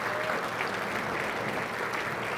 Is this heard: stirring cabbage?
no